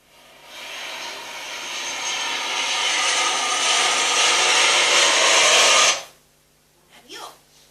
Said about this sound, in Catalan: Un avió? Què deuen fer tan lluny i a tants quilòmetres d'alçada?